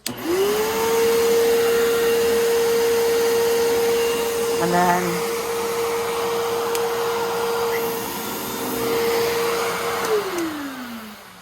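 A Bissell Lift Off upright vacuum cleaner whines up to a steady, loud motor drone, runs for several seconds, then winds down; a voice speaks briefly over it.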